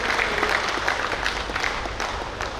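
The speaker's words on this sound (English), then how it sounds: "I think a bigger round of applause for Dr." Steady applause from a conference audience greets a special guest at a Rotary district conference, dense clapping held at an even level throughout with no talk over it.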